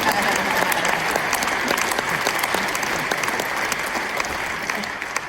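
Sustained applause from a large audience at a university world affairs conference, dense steady clapping filling the hall for several seconds at an even level, with faint crowd noise mixed in.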